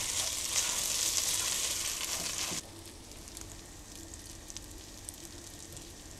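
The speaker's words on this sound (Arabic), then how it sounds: "نقلب الرز حتى تتغلف حبات الرز بالسمنة والزيت" Rice grains stirred and toasted in ghee and oil in a pan, a soft steady sizzle, brighter at first and then quieter after a sudden drop.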